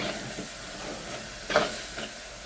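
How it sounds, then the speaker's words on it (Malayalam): Coriander powder is stirred in a hot pan while fish curry spices are cooked, making a steady soft sizzling hiss with one brief scrape of the spoon near the middle. "മല്ലിപ്പൊടി നന്നായിട്ട് ഇളക്കുക."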